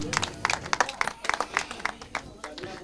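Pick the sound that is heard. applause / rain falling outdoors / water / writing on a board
applause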